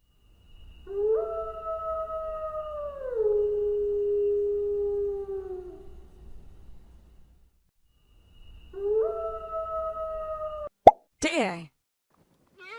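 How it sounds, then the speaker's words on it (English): Wolf howling, two long drawn-out howls that slide downward in pitch, clear and alone, separated by a short silence, followed by a couple of sharp plopping pops at the end. "Wolf."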